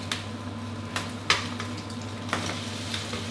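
A soft, steady sizzle of eggs frying in oil in a pan, with occasional light taps and scrapes from close by.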